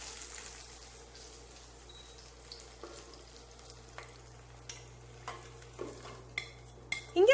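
Sautéed mixture for Tirunelveli sodhi being scraped and spooned into a cooking pot, with soft clinks and scrapes of utensil on metal growing louder toward the end over a faint sizzle.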